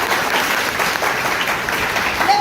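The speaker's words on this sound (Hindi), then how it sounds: "एक बार जोरदार तालियां जैविक खाद के लिए।" An audience at a Hindi business presentation gives loud, sustained applause for an organic fertilizer product. The clapping is dense and even from many hands, with no talk over it.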